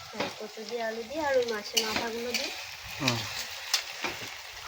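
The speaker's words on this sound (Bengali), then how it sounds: "এবার কচুটা ভাজছি" Pieces of taro (kochu) fry in a pan with a soft, continuous sizzle and occasional utensil clicks, partly under a speaking voice.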